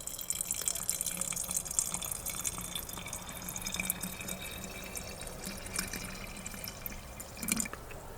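Rainwater from a garden water butt trickles and drips into the cells of a 12V leisure battery, a steady close wet pouring with small splashes, no voices.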